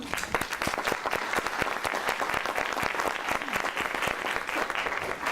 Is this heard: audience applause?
yes